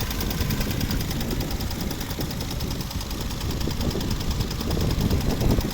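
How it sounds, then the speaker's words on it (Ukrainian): A 2007 Mercedes B170 1.7-litre petrol engine runs steadily up close, a dense even rumble with a faint rhythmic ticking, no voices. "Робота двигуна."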